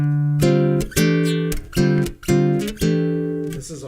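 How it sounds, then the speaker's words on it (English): Jazz guitar strums a chord built in fourths, struck about five times in a steady rhythm, each ringing clearly and decaying, played alone without talk. "This is a 4th chord."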